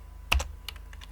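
Keystrokes on a computer keyboard while editing an Android app manifest in Android Studio, a few quick clicks followed by scattered lighter taps, close and fairly quiet with no talk.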